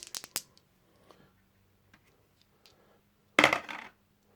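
A single die clatters and rattles across a tabletop during a Wing Leader board game. A quick burst of clicks comes first, then a few faint taps, then a second louder rattle close to the listener.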